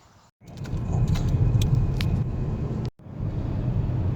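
Holden car towing a 16-foot pop-top caravan, steady interior road and engine rumble at moderate level, with a brief dropout near the start and another cut just before three seconds.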